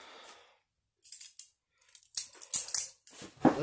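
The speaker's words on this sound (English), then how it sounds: "we're going to need a knife" Packing tape on a delivery box slit open with a knife, a series of short scratchy cuts and tearing bursts that grow louder toward the end, alone and fairly close.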